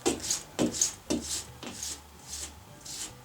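Old white caulk is sliced and scraped off a bathroom seal in a series of short, rhythmic rasping strokes, about six in a row, close and moderately loud.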